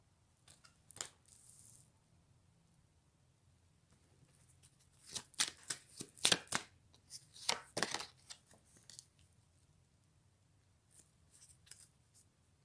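Tarot cards are shuffled in sharp, papery riffles and flicks close up, quiet at first, then a dense cluster of crisp snaps in the middle before fading to occasional faint card sounds.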